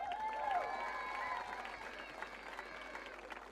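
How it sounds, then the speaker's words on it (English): Applause and cheering for a girls' football team after winning a Connacht final, a soft, distant wash of clapping and crowd noise with a whistle-like tone early on, fading gradually over a few seconds. "You're an absolute credit, so big cheer for yourselves."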